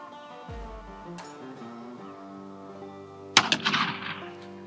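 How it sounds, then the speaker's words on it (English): A Henry single-shot turkey shotgun in camo fires one 3.5-inch shell downrange, a single sharp, loud blast that rings off into a short decaying echo, with quiet background before it. "we're gonna shoot down range and see what the pattern is on this thing at 30 yards"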